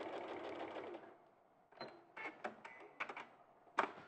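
A sewing machine stitching a quilting line, heard as a series of short rapid mechanical whirring bursts, close and quiet, after a muffled stretch of background noise at the start.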